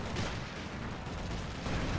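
Artillery-style mortar fire in the video game Company of Heroes 2, a dense, continuous roar of blasts and gunfire filling the whole stretch at steady loudness, with no talk over it.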